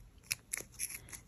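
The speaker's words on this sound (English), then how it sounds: "Now you're going to take your scissors" Scissors snipping through pom pom yarn in a quick series of about six short, crisp cuts, close up and quiet, with no talk.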